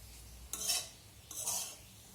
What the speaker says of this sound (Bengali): হলুদের গুঁড়োটা দেওয়ার পর আরেকটু নেড়ে চেড়ে দেবো।